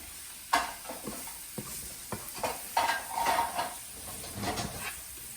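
Ingredients stirred in a cooking pan while preparing a keto meal, with scattered scraping and clinking of utensil against pan and light sizzle, intermittent soft knocks at close range.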